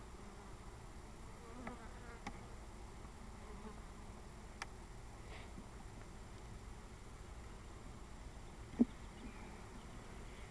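Steady low buzzing of many honey bees around an open hive during a frame inspection, continuous and close, with a few faint clicks and a brief knock near the end.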